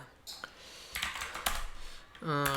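Someone types code on a computer keyboard, with sparse, close key clicks and a few quick bursts, then a brief tonal beep near the end.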